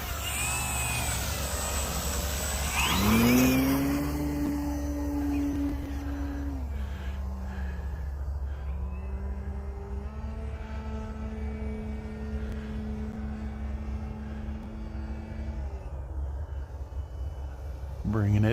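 The electric motor of a Flex Innovations Mamba 60E RC airplane whines as the plane flies outdoors, rising and then easing into a steady, lower drone as it comes down slowly. Wind noise and a voice are heard at times.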